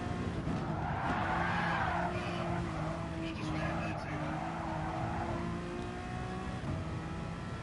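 A car spins out in the video game Gran Turismo Sport, with tires skidding and squealing and the engine revving and swooping in pitch, heard fairly faintly under people talking.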